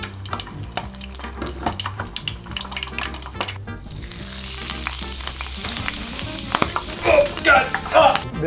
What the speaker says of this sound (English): I think I'm gonna deep fry this